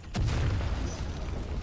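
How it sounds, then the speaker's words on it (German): A video game explosion in Final Fantasy XV, a single deep boom that hits early and then rolls off in a low rumbling tail. "Da ist er explodiert."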